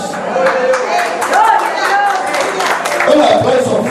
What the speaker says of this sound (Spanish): Un aplauso fuerte al Señor.